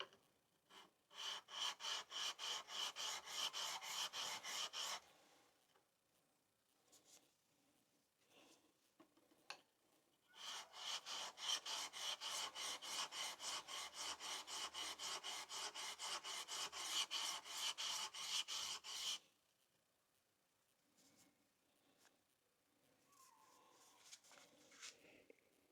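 A chisel is rubbed dead flat on a sharpening stone in two long bursts of rapid back-and-forth rasping strokes, close and fairly quiet, with near silence and small handling noises between them.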